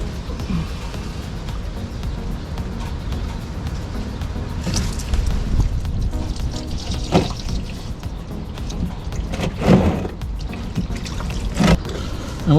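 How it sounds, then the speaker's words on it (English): Engine oil drains from the drain plug of a BMW N47/N57 diesel into a catch pan, a steady low pouring trickle with a few brief louder splashes and clanks, heard close with no talking. "Make sure the oil pan is underneath, and then just gently drop this down, and then we'll let this drain."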